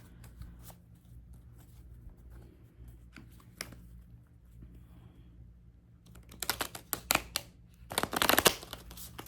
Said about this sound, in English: I'm kind of sitting really low to be shuffling these cards so high.